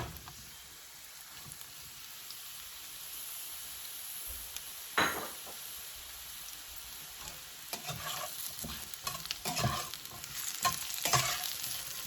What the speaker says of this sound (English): I just toss it around in the oil to make sure that, you know, all the mushrooms get a little bit of oil on them